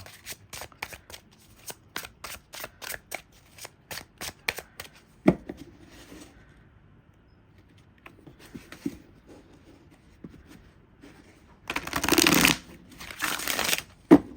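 Rapid crisp riffle shuffles of a tarot card deck, several bursts with pauses between, close and clear, ending in two longer louder shuffles.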